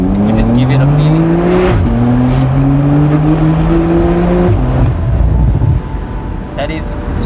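A 2016 Porsche 911 Carrera (991.2) with a PDK gearbox accelerates hard, its engine note climbing loudly through quick gear changes before easing off, heard from inside the car.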